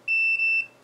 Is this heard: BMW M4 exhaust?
no